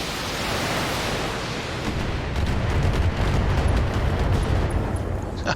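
Mech weapons fire in the Battletech game as a broad, roaring blast that swells into heavy rumbling booms and rattling impacts, loud and sustained, with no voices.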